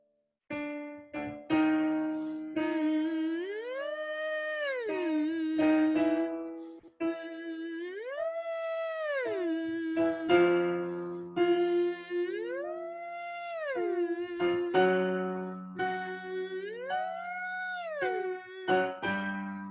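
A human voice imitates a puppy's cry with repeated high, sliding whimpers and howls, rising and falling in several long phrases.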